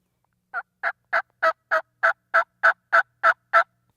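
A mouth call imitates a wild turkey yelp: eleven clear, evenly spaced yelping notes in a steady rhythm, close and loud, with no other sound around them.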